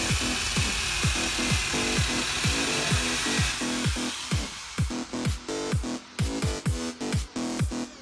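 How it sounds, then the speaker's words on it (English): A drill-mounted wire wheel grinds rust off sheet metal inside the boot of a classic Mini Cooper Sportspack, a harsh close abrasive whir broken by rhythmic repeated scrubbing strokes that become choppier toward the end. "I'm just using the wire wheel attachment on the drill just to see how bad the rust is."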